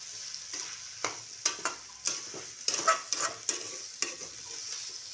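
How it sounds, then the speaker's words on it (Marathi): Hakka noodles being stirred with tomato sauce in a hot pan, with a steady sizzle and a string of sharp scraping and clinking strokes at an irregular rhythm, close and clear, with no talk. "टमाटर सॉस घालायचे आणि चांगलं मिक्स करून घेऊ."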